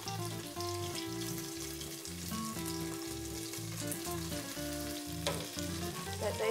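Pieces of squirrel browning in hot oil make a steady, moderately quiet sizzle and crackle that runs throughout, with a tonal musical backing underneath and no voices.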